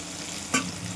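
Masala sizzles in a pan just after a little water is added, a steady frying hiss with one brief louder burst of spatter and stirring.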